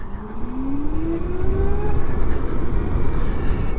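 Zero FXE 7.2 electric motorcycle pulling out of a parking lot, a steady rising motor whine with road and wind rumble throughout, fairly close and loud.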